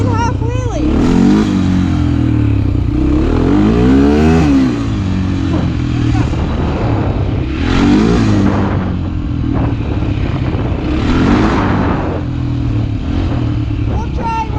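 Motorcycle engine revving hard during a half wheelie, loud and close with a steady roar that swells and drops in repeated surges over the length of the ride.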